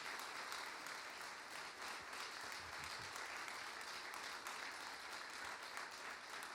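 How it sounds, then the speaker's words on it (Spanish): Applause from a congregation at a church conference: steady, continuous clapping from many hands, heard from some distance and fairly faint, with no talk over it. "Le podemos dar un aplauso al Rey de Reyes y Señor de Señores"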